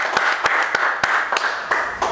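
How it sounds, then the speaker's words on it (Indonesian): A few people clap for Bang Didi Hijau during a talk show, sharp, separate claps landing in an uneven rhythm over a steady background murmur, close and fairly loud. "Tepuk tangan lu dong buat Bang Didi Hijau dong."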